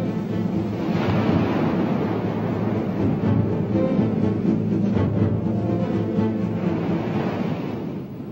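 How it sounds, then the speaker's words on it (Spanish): Stormy sea waves churn under hurricane-force wind, a loud, continuous roaring wash with gusty rumble and surging swells, no voices. "un viento huracanado y la nave queda a merced de las olas"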